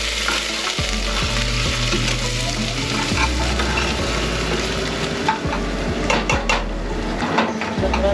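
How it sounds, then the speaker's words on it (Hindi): Chicken curry paste frying in a pan at home, a loud steady sizzle throughout with frequent clinks and scrapes of a spoon stirring against the metal pan, no talking. "तो अच्छा से इसको फ्राई करना है।"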